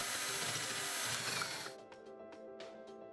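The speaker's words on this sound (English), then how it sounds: "Now, we drill the first hole and then the second hole." A power drill whirs steadily at close range for under two seconds, drilling holes in a French door, then stops, leaving a few faint clicks and light handling noises.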